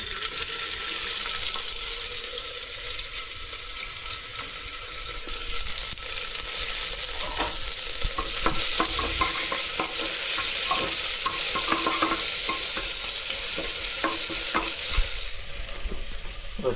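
Onions fry in hot oil in a pan under a continuous loud sizzle, with a utensil scraping and stirring in irregular strokes, close up, with no voices.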